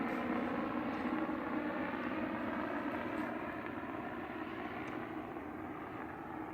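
A low, steady rotor drone hums from a helicopter at a distance, faint and continuous, with no voices.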